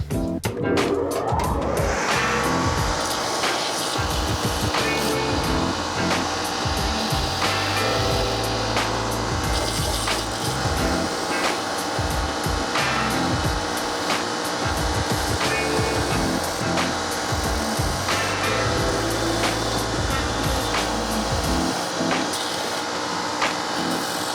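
A powered sander runs continuously and loud during a Wolverine 1000 Mile boot resole, giving a steady close grinding hum with scraping variations as the sole is worked.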